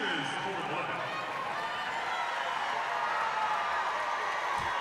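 Arena crowd noise at an LSU vs UCLA women's college basketball game in the final minute, a broad roar of cheering and whooping that swells steadily, with a commentator talking over it.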